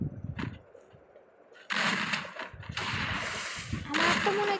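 Shotgun fire in a shooter video game crackles in sharp bursts and long rattling volleys over game noise, loud and close, after a brief low murmur at the start.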